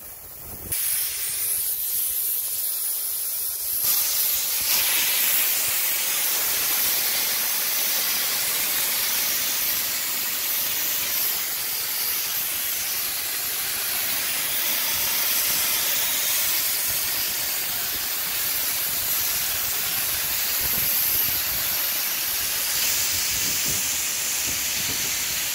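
A drywall texture sprayer driven by compressed air hisses steadily and loudly for the whole stretch, a continuous broad rushing spray with a brief quieter start and no talk.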